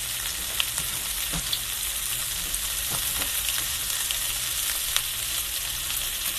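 Rice fries in about a tablespoon of hot oil in a pan on medium-high heat, producing a loud, constant sizzle with occasional sharp clicks from stirring.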